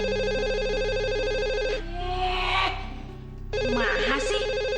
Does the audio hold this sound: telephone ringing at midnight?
yes